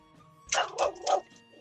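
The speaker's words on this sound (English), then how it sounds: "Oh, I'm sorry for my dog in the background." A dog barks three times in quick succession in the background, each bark fairly loud and sharp, then quiet returns.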